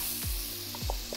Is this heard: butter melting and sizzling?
yes